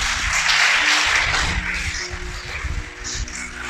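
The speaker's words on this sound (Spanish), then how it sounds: "Dale un aplauso, por favor." A congregation at a Spanish-language sermon gives a round of applause, a loud burst of many hands clapping that thins out and fades, with a low musical hum underneath.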